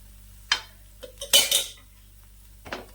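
A puran poli flatbread is flipped on a hot pan, giving a few light metallic clinks and scrapes of utensil against cookware, close and distinct over a quiet background hum.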